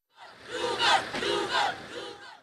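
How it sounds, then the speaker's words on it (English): A large crowd waiting outside Jacksons International Airport in Port Moresby greets the Australian rugby league team, with loud, sustained cheering and yelling that swells in waves and continues throughout. "They were greeted by a large crowd waiting outside the airport."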